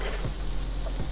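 Hot oil sizzles steadily in a pan ready for frying shrimp, a close, continuous crackling hiss with faint pops and no pauses.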